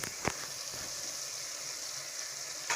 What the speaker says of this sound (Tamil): மசாலாவோட மிங்கிள் ஆகிற அளவுக்கு நம்ம முட்டையை நல்லா கிளறி விட்டுக்கலாம்.